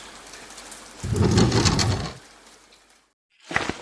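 Heavy rain pours in a dense, loud burst that swells for about a second and fades to a soft hiss, with a short sharper rush at the end after a moment of silence.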